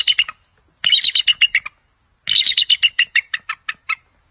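An eagle's call, surprisingly thin and weak: two bursts of rapid, high-pitched chirping notes, a short one then a longer descending series, clear and close against silence.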